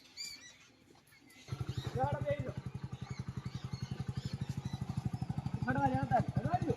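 A motorcycle engine idles close by with a fast, steady putter, while people talk over it.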